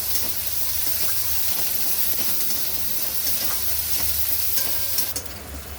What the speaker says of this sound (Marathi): कांदा आपल्याला मस्त सोनेरी कलर येईपर्यंत परतून घ्यायचा